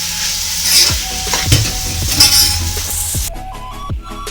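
Raw mango pieces, salted, sizzle in a pan while being stirred for pulihora, a loud close crackling hiss punctuated by repeated scraping and clinks of a spoon against the pan.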